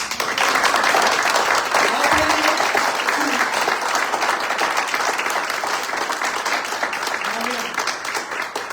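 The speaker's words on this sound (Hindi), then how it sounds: "अब जरा एक दफा अपना बेस्ट ताली यीशु मसीह के लिए हो जाए" A church congregation at a Palm Sunday service claps for Jesus Christ, a dense, loud wash of applause running steadily throughout, with a few faint voices calling out beneath it.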